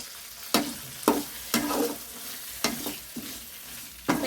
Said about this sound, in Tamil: இந்த ஸ்டேஜில் நான் தக்காளி போட்டுக்கிறேன். ஒரு மீடியம் சைஸ் தக்காளி தான். ஒரு கிண்டிக்கிறேன்.